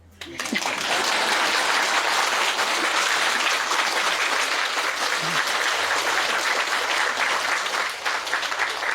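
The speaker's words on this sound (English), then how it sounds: "Now, applause." Audience applause at a spiritual lecture, a loud, full burst of clapping that starts abruptly and holds steady for several seconds before thinning slightly near the end.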